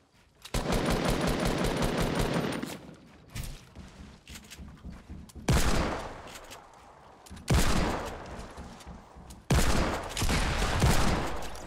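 Desert Eagle pistol gunfire in the game Fortnite, several loud bursts of shots separated by short pauses, close and sharp with faint movement sounds between.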